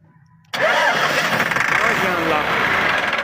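A Massey Ferguson MF 285 tractor engine starts abruptly after near silence and settles at once into a loud, steady, throbbing diesel idle close by.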